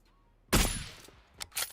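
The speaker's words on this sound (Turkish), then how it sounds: "Solda silah sesi." A sharp, loud gunshot burst with a ringing tail, followed by two quicker shots close together, all heard in a game.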